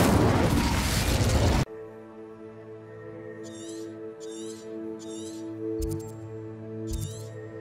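An Incendio fire spell in Hogwarts Legacy bursts in a loud, roaring blast lasting over a second and cuts off abruptly. Quieter ambient game tones follow, with faint rhythmic clicks.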